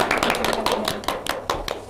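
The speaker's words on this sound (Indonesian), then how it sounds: "Tepuk tangan nggak? Tepuk tangan." Audience hands clap in a series of sharp, uneven bursts at a psychology talk on emotions, fairly close and loud, with scattered voices mixed in.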